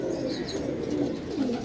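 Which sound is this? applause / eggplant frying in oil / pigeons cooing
pigeons cooing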